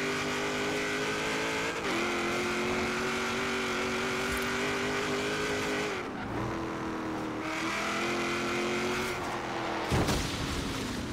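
A 1956 Ford F100 truck in Forza Horizon 3 drives hard at speed, its engine droning loud and steady with harmonic whine, shifting pitch through a few gear changes and a brief dip near the end, with no talk over it.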